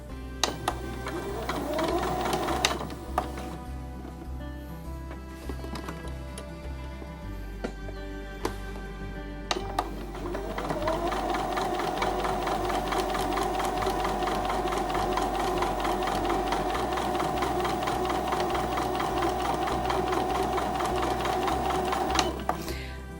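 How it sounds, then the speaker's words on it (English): A sewing machine stitches a quilt block in a steady, close, continuous mechanical whir that stops briefly a few times before running again for a long stretch, with no talking. "So I'm just going to sew down this line on the right hand"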